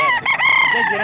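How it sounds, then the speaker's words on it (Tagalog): A rooster crows loudly and close at a poultry market in Calumpit, one strained, harmonic-rich call lasting about a second. "Ayan, ganda ng mga manok dito."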